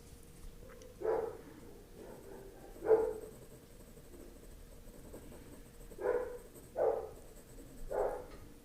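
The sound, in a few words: dog barking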